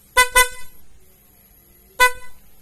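PIAA Oto Style 12V snail car horn honking, two quick close blasts followed by a single blast after a pause, loud and bright, with no talking.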